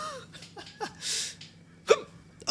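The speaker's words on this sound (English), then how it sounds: "Why do I have hiccups now?" A woman's hiccups, a few sharp, abrupt bursts spaced unevenly across a short stretch, near and fairly loud, with breathy sounds in between and no speech.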